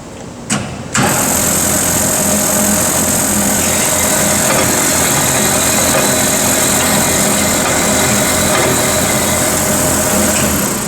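A band saw starts up after a brief pause and runs while cutting through a block, producing a loud, steady, broadband whir and hiss that holds unchanged throughout.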